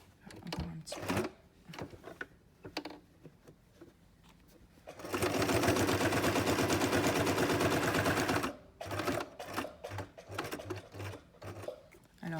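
A sewing machine stitching fabric in a home sewing session, a dense steady run of rapid needle strokes lasting a few seconds, framed by shorter clicks and handling noises before and after.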